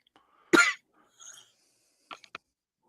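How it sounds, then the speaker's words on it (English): One sharp, harsh cough, then a softer breathy follow-up and two quick throat-clearing bursts, close by with silence between. "Sorry, had to hack up a lung real quick."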